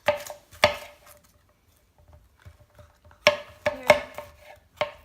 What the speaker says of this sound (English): I'm gonna take out the core of this pepper, like this, and chop some nice slices.